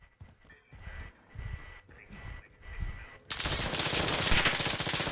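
Dense, continuous gunfire in the Call of Duty Warzone video game, sharp rapid bursts crowding in and holding steady after softer scattered sounds and a voice earlier.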